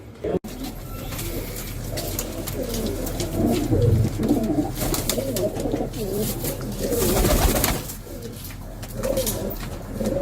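Domestic pigeons kept by a pigeon fancier coo in soft, repeated low calls against a busy outdoor background, with faint voices in the distance.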